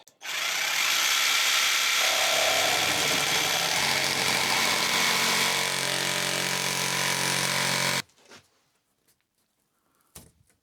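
A jigsaw makes a short cut in building work. It runs loud and steady for about eight seconds as a dense buzzing whine, then stops abruptly, leaving a few faint knocks and rustles.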